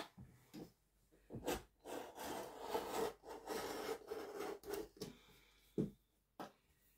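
Scissors or a blade work through fabric pieces for sewing, making a series of close, quiet scraping and rasping cuts in short bursts separated by brief pauses, with no talking.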